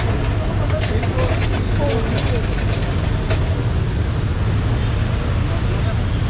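A parked Toyota HiAce van idles unattended on España Boulevard, its engine a low, steady rumble running continuously beneath nearby talking and street noise.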